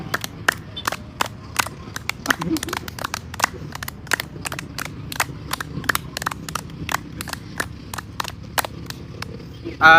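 A group of people claps hands in a clapping game, with sharp, evenly spaced claps repeating steadily throughout, fairly loud and close, with faint talking beneath.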